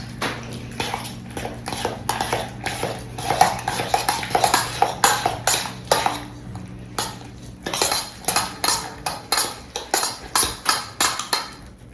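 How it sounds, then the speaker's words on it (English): Eggs and mashed banana are beaten into banana nut muffin batter in a bowl, a close, steady run of rapid rhythmic clinks and taps as a utensil strikes the bowl, slowing into separate knocks near the end, with no voices. "next we're going to add our 2 eggs. Mix those in there."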